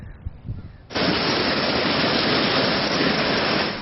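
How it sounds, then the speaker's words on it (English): A steady, loud roaring rush like a torrent of water, a mudflow pouring down a mountain in Ramona after a storm, starts abruptly and continues without a break. "It sounds like a river. But that's mud roaring down a mountain"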